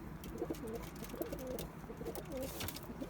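An agitated male pigeon coos in short, throaty bursts repeated several times, close but fairly quiet, with a low hum running underneath and no speech.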